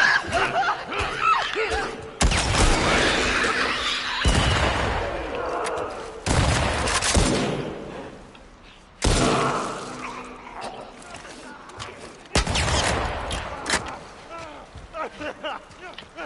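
Gunfire in The Last of Us Part II, with several loud, sharp bursts separated by quieter stretches, and a voice speaking over parts of the action.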